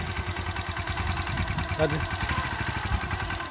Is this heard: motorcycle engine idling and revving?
yes